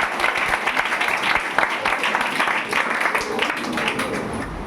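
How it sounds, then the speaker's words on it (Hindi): A school audience at a girls' Class 10 quiz competition breaks into sustained, fairly loud applause, dense clapping that carries on throughout and tapers slightly at the end. "ताली हो जाए, ताली हो जाए।"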